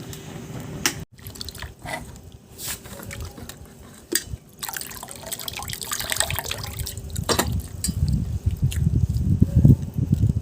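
Oil poured into a large pot for a big batch of chicken biryani, a trickling liquid stream that swells louder and fuller toward the end, mixed with clinks and handling noises nearby.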